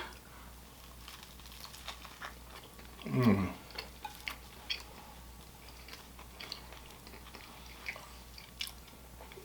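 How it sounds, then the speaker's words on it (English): Someone takes a big bite of a ham and egg burger, a soft crunching bite followed by quiet, close chewing and small wet mouth sounds. "And we're going to take a big bite."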